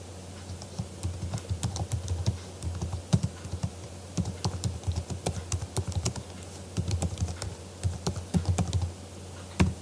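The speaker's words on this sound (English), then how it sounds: "So type in the subject." A computer keyboard is typed on at close range in irregular bursts of crisp key clicks, separated by short pauses, with no voices.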